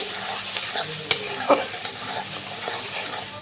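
Turmeric, cumin, coriander powder and salt sizzle and fry in a pan for moong dal with fish head, with a steady hiss, a couple of sharp spatula clinks and stirring scrapes close by.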